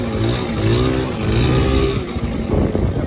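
A rebuilt silver Honda Urban Express scooter runs on a quick ride, its small engine buzzing close and loud with a wavering, rising and falling pitch as the throttle changes.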